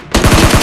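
A loud, close burst of automatic gunfire from a bot in the PUBG Mobile Lite game, several rapid shots in an even rhythm that fill the whole moment.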